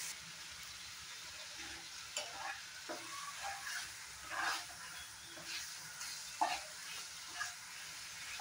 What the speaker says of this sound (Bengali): আমি 2-1 মিনিট ভালো মতো ফ্রাই করে নেব।